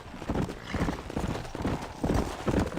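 Horse hooves clip-clopping at a steady walking pace in the Red Dead Redemption video game, close and fairly soft, with regular rhythmic beats and no speech.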